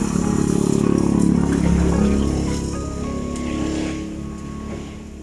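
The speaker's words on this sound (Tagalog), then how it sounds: "Ito yung motor ko." A motorcycle engine revs close by, loud at first with a rising and falling growl, then easing down to a quieter idle-like rumble as it fades.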